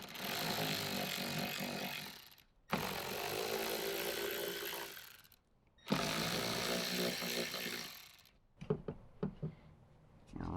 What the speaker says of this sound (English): we'll grab our 10mm socket, and we're going to take off the 3 bolts holding in the factory rear speaker